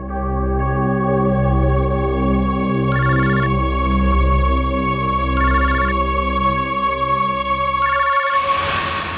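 A phone rings with a steady electronic ringtone, its bright tone repeating in regular bursts over a low, continuous hum.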